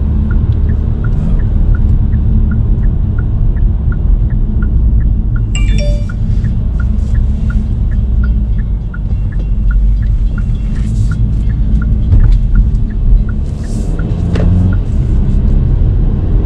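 A Kia Seltos engine drones steadily at low pitch for the whole stretch, a sustained in-cabin rumble with a few faint clicks and taps, no voices.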